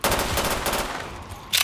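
A Procolot pistol fires in a Minecraft-themed Black Ops 3 custom zombies map, a quick run of close, loud shots in steady rhythm, then a short pause and one more burst at the end.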